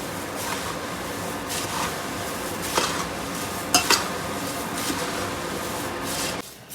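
A spoon stirs poha chivda with puffed rice in a pan over low heat, a steady scraping and rustling with a few sharper clinks against the metal, continuous and close.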